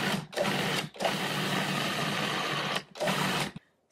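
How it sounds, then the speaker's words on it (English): Food processor pulsing avocado until creamy, three loud close bursts of motor whir, a short one, a long one and another short one, each cut by a brief gap before the sound stops. "we're going to put the lid back on, and then we're going to pulse until it's really creamy"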